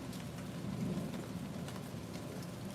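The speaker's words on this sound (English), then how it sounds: "It was light. Like it wasn't that heavy rain." Light rain patters steadily on surfaces, a soft continuous hiss with scattered drop ticks, fairly quiet and even throughout with no voices.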